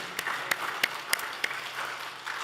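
Scattered applause from a church congregation at a New Year's Day Sunday service, a few distinct sharp claps standing out over a soft, steady patter, moderately quiet and somewhat distant.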